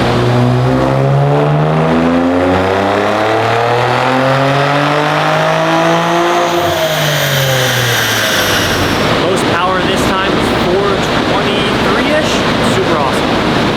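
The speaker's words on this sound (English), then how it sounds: "Usually you can feel the car kind of spin on the dyno" A tuned 2023 Nissan Z making over 500 horsepower with full bolt-ons roars on a dyno, its engine note climbing steadily through the revs to a loud, harsh peak before sharp crackles and pops as it comes off throttle.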